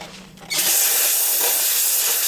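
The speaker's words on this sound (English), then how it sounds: "press the button, steam it off, and it dries quicker too than regular jewelry cleaners because it's hot" A handheld jewelry steam cleaner blasts a loud, steady hiss of hot steam that starts suddenly after a short quiet moment and keeps going without a break.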